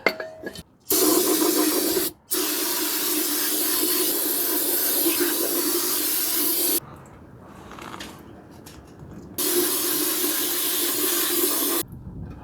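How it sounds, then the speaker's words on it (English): Loud pressurized spray of brake parts cleaner hissing in long bursts, rinsing out a Ford F-150 differential, stopping briefly between blasts, with a quieter rough spraying stretch in the middle. "So, got some brake parts cleaner."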